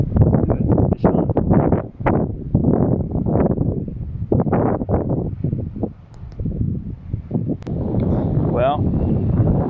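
Wind gusts in bursts across the microphone beside a pond during evening bass fishing, roaring and buffeting up close while someone talks over it, with a brief whirring of a reel near the end.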